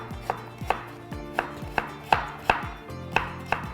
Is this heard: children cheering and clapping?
no